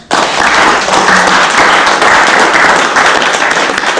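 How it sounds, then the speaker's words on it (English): A round of applause from the crowd at an annual membership meeting: dense, steady clapping that starts abruptly and holds at full strength for a few seconds, close and loud, with no speech over it. "I give everybody a round of applause."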